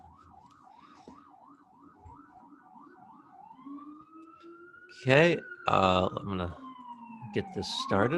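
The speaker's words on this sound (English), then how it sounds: "Sorry for the siren." A police siren wails outside, cycling through a rising-and-falling yelp before settling into a long steady tone as it passes, fairly faint and distant, while someone talks briefly over it.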